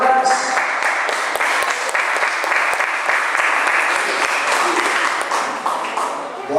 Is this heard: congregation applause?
yes